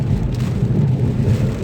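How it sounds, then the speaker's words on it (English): Heavy rain pouring down before Hurricane Ian in North Carolina, a dense, steady roar with a deep rumble beneath, loud and continuous with no talk. "the rain is still coming down pretty hard."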